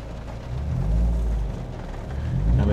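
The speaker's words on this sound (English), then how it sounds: "Putting a bit of gas on, a bit of throttle on" A Renault Clio engine revs up as the throttle is applied, a deep close rumble that swells, dips and rises again, with no speech.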